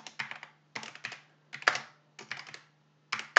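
Keys on a computer keyboard are tapped in quick bursts of several clicks separated by short pauses, close and crisp over a faint steady hum, with no talking.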